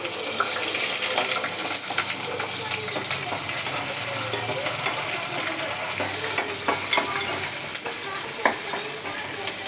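Onions, green chillies and mustard seeds sizzle loudly and continuously in hot oil in a pan, a dense crackling hiss with small pops and occasional stirring scrapes, no voices.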